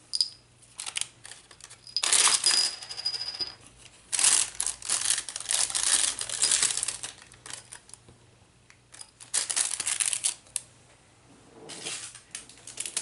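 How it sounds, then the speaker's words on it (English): A small glassine bag holding a mix of sequins is handled up close, giving soft crinkling and rustling in uneven bursts with quiet pauses between them. "another little glassine bag with a mix of sequins"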